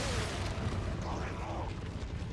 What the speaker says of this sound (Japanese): 爆発する。